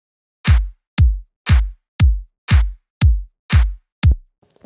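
A kick drum and clap sample loop in a disco-house remake, eight evenly spaced punchy hits with deep low thump and bright snappy tops, steady four-on-the-floor rhythm, close and clean, ending in faint residue.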